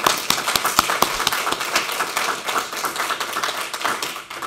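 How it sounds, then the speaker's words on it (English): A poetry-reading audience gives the poets Casey, Clint and John another round of applause, a dense, steady wash of many hands clapping close by with sharp individual claps standing out, unbroken by talk. "One more round of applause for them."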